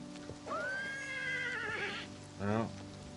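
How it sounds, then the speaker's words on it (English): A horse in the video game Elder Scrolls Oblivion gives one long rising whinny followed by a shorter shaky neigh, loud and close, with faint background noise. "I was trying to make the horse jump"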